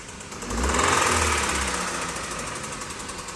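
A worn Hyundai Tucson engine knocks as it is turned by hand, a close, rough run of rapid mechanical clatter and vibration that swells then fades over a few seconds.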